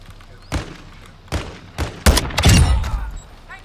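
Gunfire in Call of Duty: Modern Warfare 2: several sharp, separated shots cracking out, then a denser burst of rapid fire with heavy low-end thuds, loud and close.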